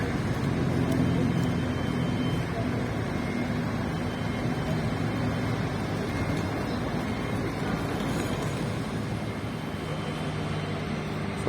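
Several cars in a convoy roll past a stadium construction site, a steady broadband rumble of engines and tyres on the road that holds at a constant level for the whole stretch, with no talk.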